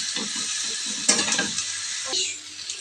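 Chow mein noodles tossed and mixed in a hot pan, giving a continuous close sizzle with scraping and a few louder utensil knocks against the pan, heard alone.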